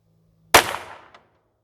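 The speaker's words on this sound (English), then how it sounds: "10 rounds with the buck mark." A single sharp report from a Browning Buck Mark pistol fired off a shooting rest cracks close and loud, then decays quickly into silence.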